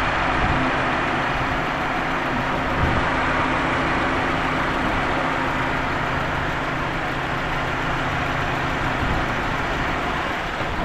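A vehicle engine that has just been started runs at a steady idle. Its loud, constant rumble and hum carry on without a break and with no talk over them.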